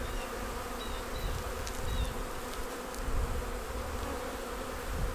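A dense swarm of honeybees buzzes continuously among the hive frames of an apiary, close and steady, with a few individual bees droning past.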